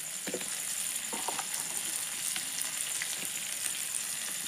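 Pieces of meat and potato fry in a pan with a steady, close sizzle and scattered small crackles, without any talking.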